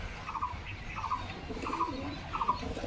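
Newly arrived pigeons kept at a home, giving four soft, evenly spaced cooing calls at moderate distance over a low, steady background rumble.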